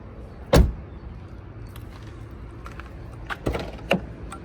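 The damaged door of a wrecked Dodge Hellcat is worked by hand. A sharp close thud comes first, then quieter rattles and clicks, and two more knocks follow near the end.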